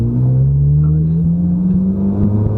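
A car with a flat-plane-crank V8 revs close by, its smooth, loud engine tone climbing steadily over a couple of seconds with no other sound over it.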